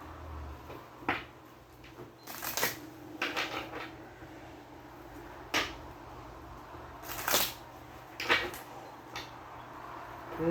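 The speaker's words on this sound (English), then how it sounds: "One more shuffle." Tarot cards are shuffled by hand in bursts of riffling and sliding, with short quiet pauses between the shuffles, close and fairly soft.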